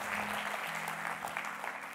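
An audience at a games festival event claps in steady, sustained applause that fills the whole stretch, with a faint tonal hum beneath.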